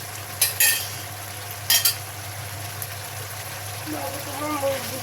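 Frozen homemade tomato sauce goes into a pan of sizzling beef kidney, with a steady frying hiss, a couple of brief metallic stirring clatters up close and a voice briefly at the end.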